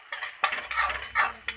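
Onions fry in a pan for a poha made with leftover roti, with intermittent stirring scrapes over a light sizzle and a few sharp utensil clicks.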